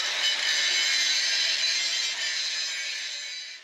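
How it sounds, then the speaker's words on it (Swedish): A grinder works steadily on a metal part of a hydraulic hammer for an Åkerman H10b excavator, a loud, continuous high-pitched abrasive whine with no speech, easing slightly toward the end. "Så vi får slipa av den lite så att så den blir bra."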